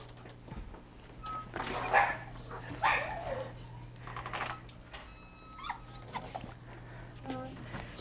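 A dog barks, yips and whimpers in short bursts at a shelter parade, fairly close, with several louder yelps spread across the clip while a person talks over a steady low hum.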